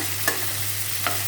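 Fish cooks in a pan with a steady, close sizzle and a couple of brief stirring scrapes, and no voices.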